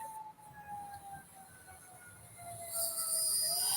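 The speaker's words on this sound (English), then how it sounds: "I got sirens." Distant siren wailing faintly in the background, its pitch slowly gliding and rising, under a hissing outdoor noise floor without speech.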